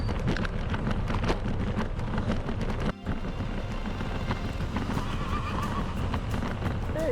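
A horse neighs and whinnies outdoors in the countryside, the calls rising over hooves clip-clopping and gusts of wind buffeting the microphone, with no speech.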